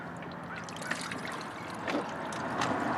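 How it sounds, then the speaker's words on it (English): Distilled water is poured into a motorcycle's coolant system, a faint trickle and splash that builds slightly toward the end, heard close and quiet, without speech. "get some of my distilled water, and I will just simply pour it"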